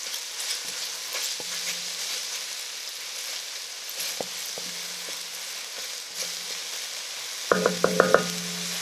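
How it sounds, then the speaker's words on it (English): Four tablespoons of green seasoning sizzle in hot oil for Trinidad corn soup, a steady close frying hiss broken by scraping stirs, with a louder burst of sizzle and clatter near the end. "I'll add 4 tablespoons of the green seasoning to the oil. Give it a stir."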